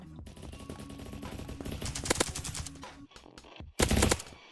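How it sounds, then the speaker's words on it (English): Auto pistol fire in the browser shooter Krunker.io: rapid bursts of sharp gunshots, loud and close, with short pauses between volleys. "Look at the long range kills with this gun"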